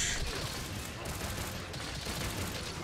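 Rapid ranged weapon fire from a light bowgun in the video game Monster Hunter Rise, a dense, continuous barrage of shots at steady loudness throughout.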